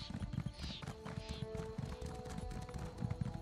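Rhythmic hoofbeats from a cow unicorn mount trotting in a video game, a quiet, even clip-clop running throughout with faint game chimes above it.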